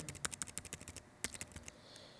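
Typing of a credit card number on a computer keyboard: a close, fairly quiet burst of rapid key clicks, a short pause, then a second brief flurry of keystrokes, with no voices.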